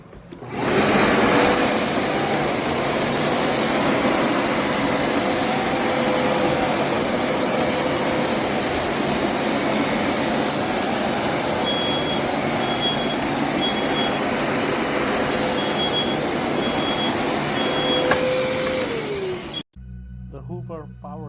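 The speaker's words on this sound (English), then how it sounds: "Hoover Power Scrub Deluxe Carpet Cleaner. Incredible machine." A Hoover Power Scrub Deluxe upright carpet cleaner runs with a loud, steady, droning motor whine that holds level for about twenty seconds before cutting off abruptly.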